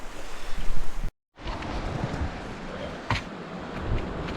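Surf and gusting wind rush at Waterfall Beach on a sunny day, a steady broadband wash with heavy wind buffeting on the microphone, a brief dropout, then continued waves and breeze up close.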